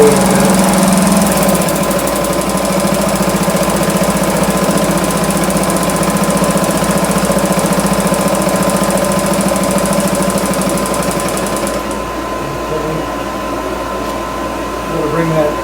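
A 1971 Johnson Mate 2 hp outboard motor runs steadily at a loud, close, rattling idle, with a constant buzzing drone and shaky tone throughout before easing slightly near the end.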